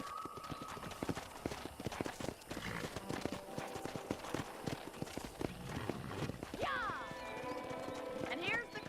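Horses at a ranch corral in Red Dead Redemption, with steady hoof clip-clops on hard ground and a whinny near the end, heard alongside game ambience.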